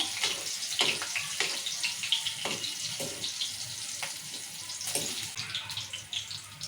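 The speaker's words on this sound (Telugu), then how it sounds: "ఇక నూనె వేడయ్యింది పచ్చిమిరపకాయలు వేసుకుందాం ఇప్పుడు పచ్చిమిరపకాయలు దూరంగా వేగాలి" Green chillies dropped into hot oil in a pan, a steady faint crackling sizzle with scattered pops and spits, heard alone without talk.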